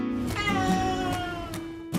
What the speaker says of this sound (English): If anything, it seemed to make him meow more.